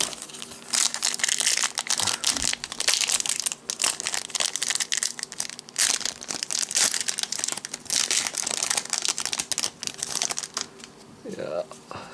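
Yu-Gi-Oh booster packs are torn open and handled, with continuous loud foil crinkling, crushing and rustling of wrappers and cards close to the microphone.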